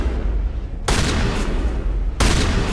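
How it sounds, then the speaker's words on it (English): Shotgun blasts in the video game Mass Effect, loud and close, with two sharp heavy booms about a second apart, each trailing into a thick noisy roar. "this thing fires off 3 shots in a matter of seconds"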